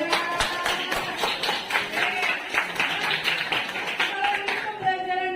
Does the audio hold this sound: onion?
no